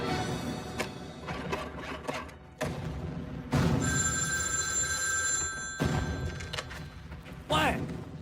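An old-style field telephone bell rings in a sustained metallic trill, loud and near, with thumps and a voice in between, at a Red Army command post in a war drama.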